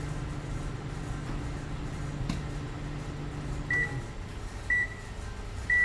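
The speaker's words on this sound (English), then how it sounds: "Let's microwave 1 minute again and start." A microwave oven hums steadily with a burning Nabi tablet inside, the drone running unbroken before several short, sharp beeps ring out near the end.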